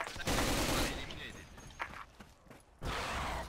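Bursts of automatic gunfire from the online shooter game S.K.I.L.L., loud and dense at the start and again near the end, with a quieter gap between and a voice talking over it.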